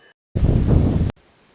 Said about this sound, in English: Boy, this wind needs to calm it down.